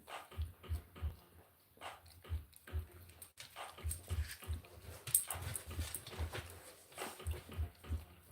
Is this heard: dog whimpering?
yes